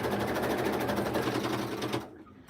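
A Juki sewing machine with an automatic thread cutter runs steadily at close range, a fast even mechanical whir that stops abruptly near the end.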